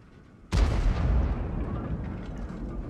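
A single heavy tank cannon shot booms out loud and close in World of Tanks gameplay, with a sharp onset followed by a long rumbling decay that lasts several seconds.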